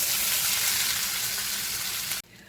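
Loud, steady sizzle and crackle of strained beans frying in hot vegetable shortening for refried beans, a dense continuous hiss that cuts off abruptly near the end.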